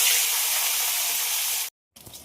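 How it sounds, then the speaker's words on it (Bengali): Pieces of catla fish, seasoned with turmeric and salt, drop into hot oil in a wok and sizzle loudly and steadily up close, then the sound cuts out briefly before the frying hiss resumes. "তেল গরম হয়ে গেছে, মাছ ভাজার জন্য ছেড়ে দিলাম।"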